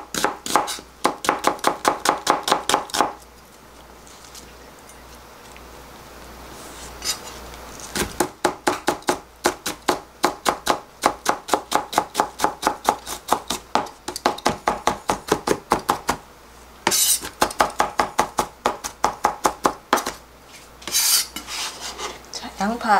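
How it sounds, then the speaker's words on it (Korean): A knife chops a quarter of an onion on a cutting board in bursts of rapid, crisp, evenly spaced taps, broken by short pauses and some scraping. "자, 양파 조금 다지고요."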